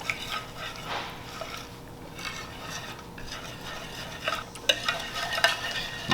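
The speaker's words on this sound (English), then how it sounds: "Give that a nice mix to combine." A kiwi and feta salad dressed with za'atar and tahini is mixed in a bowl, soft wet squelching and tossing with a few light clinks and scrapes, fairly quiet and near.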